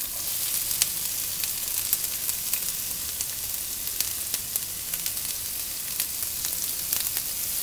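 Onions hitting hot oil in a pan for a potato and bell pepper curry, giving a loud, continuous close-up sizzle dense with sharp crackles and pops throughout.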